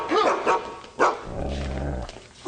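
A half-wolf dog barks sharply a few times, then lets out a low, rumbling growl, close and loud over faint background noise.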